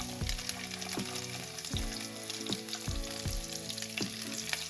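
Chopped coconut pieces frying in beef roast masala, a dense continuous sizzle with a regular series of low knocking thumps, like a spoon tapping the pan, repeating about once a second.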